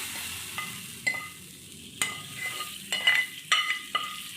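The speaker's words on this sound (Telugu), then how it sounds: "తాలింపు పెడితే వచ్చే సౌండ్ ఉంటుంది చూడండి, సుయ్యమని." Spices for tempering, with ginger-garlic paste, sizzle in hot oil for charu, heard as quiet, sporadic crackling bursts and spits close by, with no talking.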